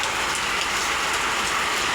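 Heavy rain pours continuously, a thick hissing wash of drops striking the ground close by at Tarapur Bazar, Rupganj, Narayanganj, Bangladesh, with nothing else standing out.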